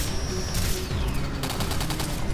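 Automatic gunfire in the video game Singularity, a dense continuous stream of rapid shots held at steady loudness throughout, with no pauses.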